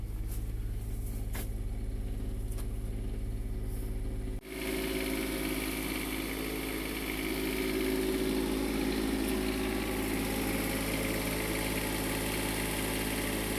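Diesel engine idling steadily in a Jayco diesel pusher RV with a Cat C7, a low rumble that shifts to a louder, fuller running drone partway through, continuous with no speech.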